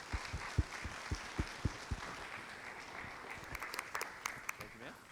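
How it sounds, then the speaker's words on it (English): Applause from the audience at a school board meeting, with a spread of individual claps under a steady room murmur, tapering off while voices chatter and someone cheers faintly. "Let's give them one more round of applause for that."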